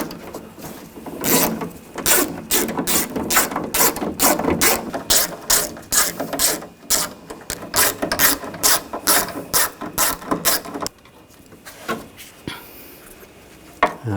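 A ratchet with a 10mm socket loosens bolts on a BMW X5 door, rapid loud clicking in repeated bursts with brief pauses between strokes, close up, fading to quieter handling at the end.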